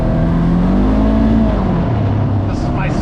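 A Polaris RZR Trail side-by-side rumbles along a 50-inch wooded trail at Willow Creek in the Allegheny, its engine droning up and down in pitch, close and loud, with a voice talking over it.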